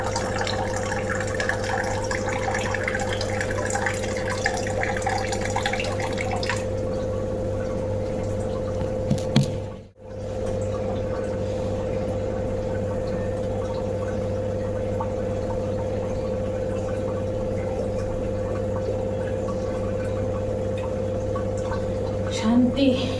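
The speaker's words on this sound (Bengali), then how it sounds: "জলটা ভরুক, তারপরে জল ভরবো।" Tap water runs steadily into a container in a home kitchen, a continuous close hiss that lasts the whole stretch with one brief break partway through.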